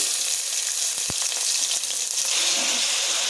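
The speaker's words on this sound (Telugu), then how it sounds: "ఇప్పుడు ఉల్లిపాయలు వేసేసుకుందాం" Onions drop into hot oil with cumin seeds in a pan, throwing up a loud, constant close sizzle with a few sharp crackles near the start.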